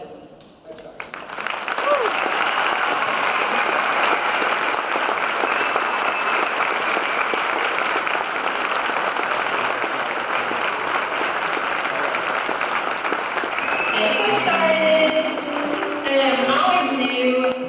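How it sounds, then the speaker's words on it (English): Crowd at a court dedication ceremony gives a long, loud round of applause for Coach Chuck Darden, sustained dense clapping that holds steady, with voices emerging near the end. "I do want to ask that there's one huge round of applause for the legend, Coach Darden"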